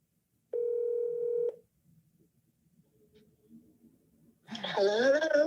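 A telephone line gives one steady electronic tone for about a second as a call is placed. It is followed by a quiet pause, and then a person starts talking.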